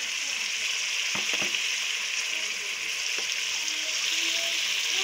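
Lentils with red chilli and dried coriander fry over high heat in a pan, a steady bright sizzle close up with a couple of brief spoon scrapes and taps, no talking.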